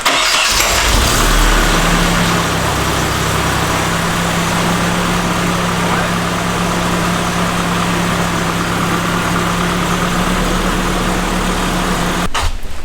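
A Nissan S13 fitted with a new header and blast pipes cranks and fires up, then settles into a loud, raspy idle with a steady drone close by, ending in a brief burst of noise.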